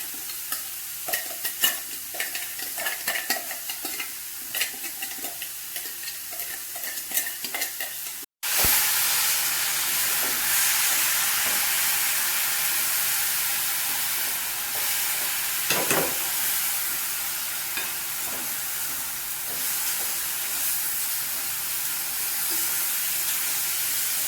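Banana flower thoran stir-fries in oil with a steady, loud sizzle and hiss close up, after a stretch of softer stirring and scraping. No one talks.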